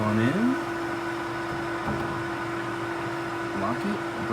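A milling machine cutting copper runs with a steady motor hum and a constant whine, close and fairly loud, with short rising tones near the start and end; no speech is heard.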